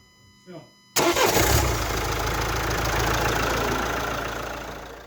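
A brief voice, then a Renault Talisman engine, jump-started after a no-start fault, cranks and catches, settling into a loud, steady idle close by.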